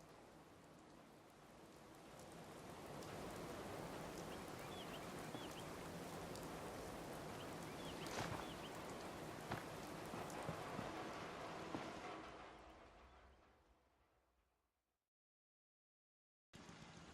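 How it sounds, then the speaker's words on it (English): Steady rain pours in a Fallout 4 game scene, a dense hiss that swells and holds for several seconds, then fades away into silence before a sudden return. "Hope this rain lets up soon."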